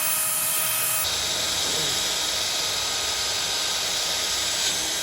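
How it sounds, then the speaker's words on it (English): A wire cup wheel on a power tool strips paint from metal lathe parts, a continuous harsh high whine and hiss that grows louder after the first second and holds steady throughout. "I used a wire cup wheel, and this thing was a huge time saver"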